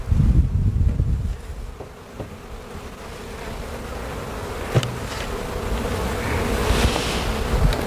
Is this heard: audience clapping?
no